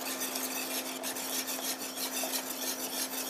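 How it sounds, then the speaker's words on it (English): Pudding mixture whisked with a wire whisk, a steady rhythmic scraping and swishing of close strokes against the pan, heard alone over a low constant hum. "make sure you whisk it with a whisk, because it's much easier that way and it dissolves much faster"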